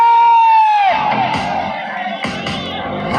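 Spectators cheer loudly at a volleyball final in Bethurpara, a dense roar of shouts and whoops that swells after a fading whistle-like tone, close and sustained.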